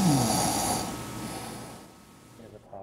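A person snores loudly with a rasping, throaty inhale at the start, then the sound fades into softer breathing noise before a faint stir at the end.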